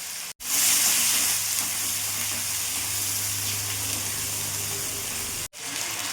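Ground ginger, garlic, chili and onion paste fries in hot oil, a loud, even, steady hiss throughout, broken by two brief dropouts, with no talking.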